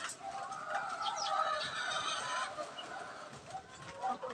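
A hen in a flying pen on a backyard poultry breeding setup clucks softly and intermittently, faint and somewhat distant against quiet outdoor background noise.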